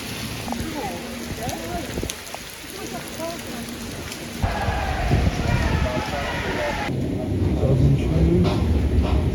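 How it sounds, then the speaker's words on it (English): Heavy rain pouring down at a football stadium during an Arsenal Champions League match against PSV, a dense continuous hiss that grows louder partway through, with a constant wash of noise. "It rained that bad."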